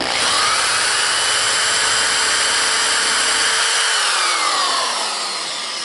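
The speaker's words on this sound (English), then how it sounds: "Now I'm going to countersink it." Power drill spinning a countersink bit into a hole during restoration of a 1934 RCA Victor 143 radio, a loud steady whine that holds for about four seconds, then dips in pitch and winds down, alone without talk.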